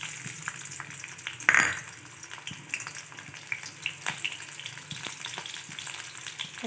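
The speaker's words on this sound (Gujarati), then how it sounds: "એમાં લસણ અને લીલા મરચાં નાખી દઈશું" Garlic and green chillies splutter in hot oil, a soft frying hiss with a sharp burst of crackling as they go in, followed by lighter intermittent pops and faint stirring.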